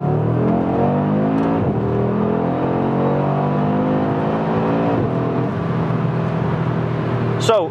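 An Audi RS3 accelerates on the road, heard from inside as the engine note climbs steadily through gears with brief shift dips, loud and continuous, with a short sharp blip near the end.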